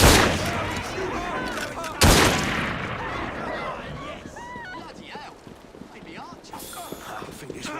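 Gunshots in the Assassin's Creed Syndicate video game, two sharp loud bursts early on followed by a busy clatter of hooves and crowd commotion, with someone talking over the action.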